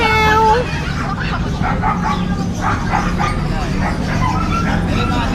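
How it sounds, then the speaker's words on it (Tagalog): A cat meows at a pet market where puppies, Shih Tzus and Chihuahuas are for sale. The meow is clear and close at the start, then fades under animal noises and nearby chatter. "pusa."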